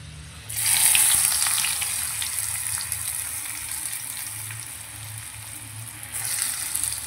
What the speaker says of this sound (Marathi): आणि आता आपण टाकूया कांदा बारीक चिरून घेतलेला.